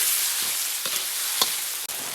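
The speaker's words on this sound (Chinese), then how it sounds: "加入各种大料炒香" Spices and aromatics sizzle steadily in hot oil with doubanjiang bean paste and soybean paste in a wok, broad frying hiss close up, punctuated by a few soft scrapes of stirring.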